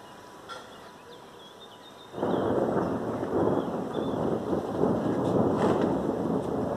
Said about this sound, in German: Jetzt der Donner!